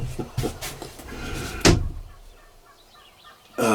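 Wild turkey gobbler gobbling outdoors: a few quick, rattling gobble bursts close together, followed by a sharp, loud crack, then quiet, and another abrupt loud burst at the end.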